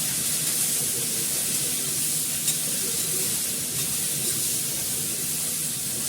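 Cauliflower, potato and carrot frying in hot oil, a constant, loud, close hiss and crackle that holds evenly throughout, with no voices.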